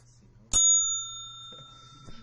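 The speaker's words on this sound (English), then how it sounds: "That you get the penalty bell." A single bell is struck once in a classroom as a penalty signal during a science lesson, a bright ring that sustains and slowly fades over a quiet room with a low background hum.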